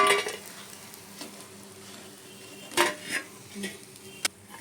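Jalebi coils being lifted one at a time from hot frying oil, with a soft steady sizzle underneath and a few sharp metallic clinks and scrapes of a utensil against the pan, fairly close.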